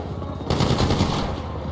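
Video game gunfire during a robbery: a sudden burst of rapid automatic fire breaks in after a quiet moment, loud and close, lasting about a second before tapering off.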